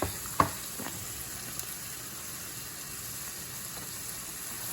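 Onions and garlic fry in a pan for a mushroom ragu, giving a steady close sizzle with a single utensil clank near the start and no talking.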